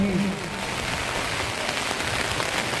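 Heavy rain pours over an outdoor football ground during a tournament final match, a dense, steady hiss close by that never lets up.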